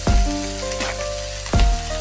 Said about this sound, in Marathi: आता हे आपले पनीर दोन्ही साईडनी शालो फ्राय झालेले आहेत.